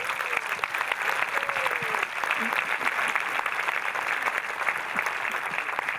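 Steady applause from an audience at the opening ceremony of the Saint-Jean-de-Luz International Film Festival fills the whole stretch, dense and continuous with a faint voice or two underneath.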